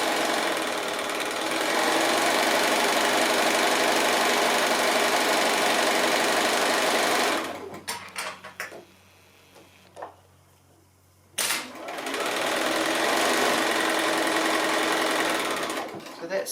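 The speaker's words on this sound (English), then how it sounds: "so that's 2 lines of sewing done already." Sewing machine stitching 10 inch quilt squares, a steady rapid mechanical whirr that runs for several seconds, stops briefly amid small handling clicks, then resumes at the same pace.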